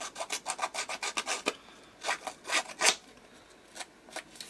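Rubbing strokes scuffing the surface of a Halloween prop to give it an aged look: a quick run of rasping, filing-like scrapes, then several slower, separated strokes, close and fairly quiet, with no talking.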